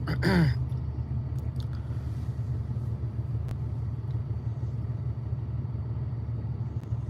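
Steady low road rumble from inside a car driving in bad traffic, a constant engine and tire drone with a brief faint squeal at the start and no talking.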